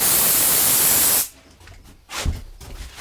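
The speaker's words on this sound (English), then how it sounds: "Now I'll spray the surface." A Critter spray gun sprays finish onto a wood surface with a steady, loud hiss lasting about a second. Quiet handling noises and a short burst of spray follow.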